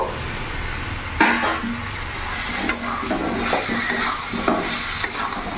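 Fried potatoes tossed into a pan of cooked spice masala and stirred, a soft continuous sizzle with scraping and occasional clinks of a spoon against the pan, close and steady.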